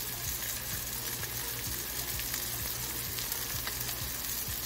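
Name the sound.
fish frying in oil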